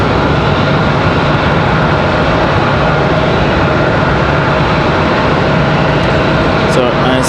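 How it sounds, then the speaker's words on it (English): Endeavor Delta Connection CRJ 900 regional jet arriving at Raleigh-Durham airport from JFK, heard as a loud, continuous jet engine roar with heavy low rumble that holds steady at close range throughout. "Looks like we've got Endeavor 5150 coming in from JFK, New York. Another Delta connection, CRJ 900."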